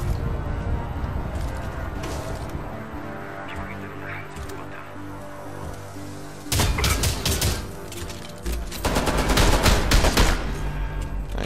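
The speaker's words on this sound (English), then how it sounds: "Shotgun in the face works." Shotgun blasts in the video game Homefront: The Revolution, heavy booming bursts that come in two loud clusters over a constant bed of game noise and ambience.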